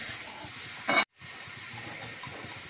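Curry leaves hitting hot oil in a pan give a steady close sizzling hiss, with a brief louder burst just before a short gap of quiet, then the frying hiss resumes.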